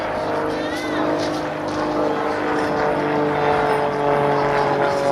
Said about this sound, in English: now the loop, which is the quintessential aerobatic manoeuvre. As he pulls up and over, Bob is subjected to 5G